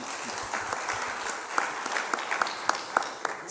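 Audience applause at a French medical talk on PCOS treatment, a steady wash of many hands clapping with a few louder individual claps standing out near the end, moderately distant.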